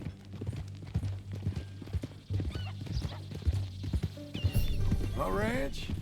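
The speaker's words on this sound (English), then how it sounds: "That a new horse?" Rhythmic clip-clop of horse hooves in Red Dead Redemption 2, a steady gait under game character speech and music, ending with a loud horse whinny near the close.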